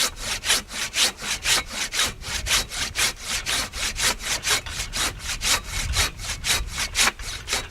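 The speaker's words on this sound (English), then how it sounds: "Remember, it's a pull saw." A Silky BigBoy 2000 pull saw cuts through a fresh spruce log in steady rhythmic strokes, about two and a half per second, each raspy bite loud and close with no talking.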